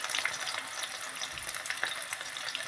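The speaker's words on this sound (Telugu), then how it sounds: "ఇప్పుడైతే ఆనియన్ వేస్తున్నా. నూనె అయితే కాగింది." Chopped onions dropped into hot oil for mutton keema, a continuous close crackling sizzle with small pops, no one talking.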